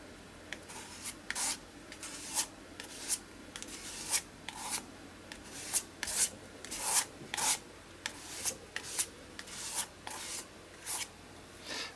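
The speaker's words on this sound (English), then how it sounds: "I'm just going to put 3 dots on there and then just scrape down" Paint scraped across an art journal page, a series of short, dry rasping strokes repeating in an irregular rhythm, close and fairly quiet, with no talking.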